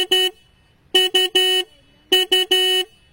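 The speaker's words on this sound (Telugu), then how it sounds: "హార్న్ యొక్క లౌడ్నెస్ అనేది ఒకసారి చెక్ చేద్దాం." The horn of a 2024 Hero Karizma XMR 210 motorcycle sounds loud and close, a single toot followed by two quick triple-beep bursts, with a clean buzzy tone and silence between presses.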